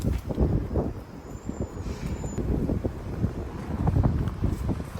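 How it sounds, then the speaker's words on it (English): Strong wind gusting outdoors in Frisco, Texas, during a 40 mph wind event, a broad roaring rush that swells and eases in waves and buffets the microphone steadily throughout. "Wind's picking back up."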